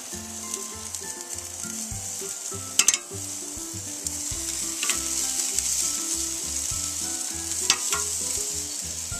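Onions frying in a pan at a family cookout, a steady bright sizzle with occasional stirring and utensil clinks against the pan, close and continuous.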